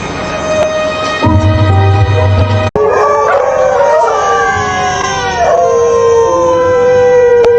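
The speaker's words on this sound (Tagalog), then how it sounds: "Nang gabing iyon, hindi nakatulog ang mga aso. Ang alulong nila ay tila nagbababala." Dogs howl at night in long, wavering, rising and falling wails that overlap, loud and close, with a steady low hum and someone narrating over them.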